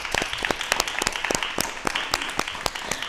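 An audience on a talk show claps loudly in a lively burst of applause with sharp individual claps standing out, continuous for about three seconds with no speech.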